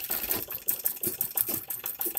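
A sewing machine stitches the bottom panel of a kurti made from leftover fabric, a close, rapid mechanical rattle that runs continuously with small uneven pulses.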